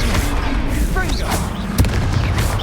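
Confringo spell blasts in Hogwarts Legacy, a dense game mix of booming impacts and crackling bursts with a sharp transient near the end, heard under continuous game sound and voice.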